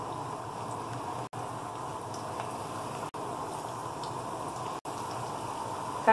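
Pakora batter sizzling in hot oil in a kadai, a steady dense frying hiss throughout with a few brief gaps, fairly close and alone without talk.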